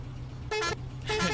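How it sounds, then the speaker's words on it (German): Two short honks of a car horn in the video game Mafia, loud and close, over a low engine rumble. "schöne Hupe"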